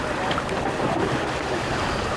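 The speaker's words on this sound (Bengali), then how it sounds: "এখন সাগরে অনেক ঢেউ," Rough sea waves slosh and churn around fishing trawlers anchored in the Bay of Bengal, a steady close wash of water with wind buffeting the microphone throughout.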